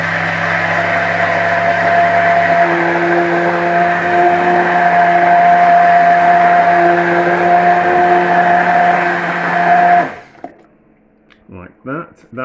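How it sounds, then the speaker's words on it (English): A hand blender purees fresh tomatoes, a loud steady motor whir with a high whine that runs for about ten seconds, then cuts off, followed by faint clinks. "we're going to puree it with a hand blender just to break down the membrane."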